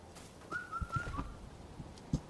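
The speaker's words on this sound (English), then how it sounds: "I hear you, bird." A bird call sounds in the video game Wuchang: Fallen Feathers: a clear whistled note that rises and is held, moderately loud over faint in-game ambience and scattered thuds, with no speech.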